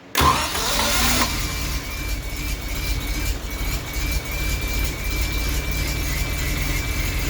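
A 1974 Triumph TR6 engine cranks briefly, then catches and runs with a loud, steady, rough-edged idle close by, continuing unbroken without talk.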